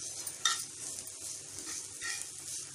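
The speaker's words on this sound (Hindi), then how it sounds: "इसी तरह ऑनियन को भी फ्राई करेंगे" Onion pieces sizzle and fry in a pan while being prepared for Andhra-style veg uttapam, a steady crackle broken by a few louder stirring scrapes, close and clear with no talk.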